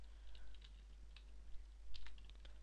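Quiet, uneven clicks of typing HTML on a computer keyboard, short bursts of keystrokes at close range with a low steady hum underneath and no talking.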